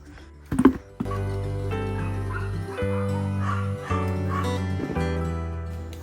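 Dogs bark and whimper somewhere nearby, a short burst of yips early, then a steady drone and other sounds carry on in the background.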